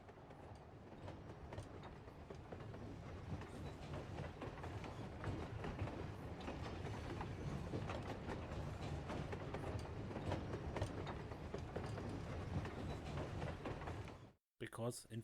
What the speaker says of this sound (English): When I first saw you'd be facing a train of all things